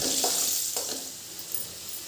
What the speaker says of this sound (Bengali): আলুগুলো এদিকে ভাজা হোক